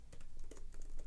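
Quick clicking keystrokes on a computer keyboard, a short close run of light taps at an even pace.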